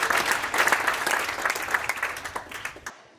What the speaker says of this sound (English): Round of applause for Caroline.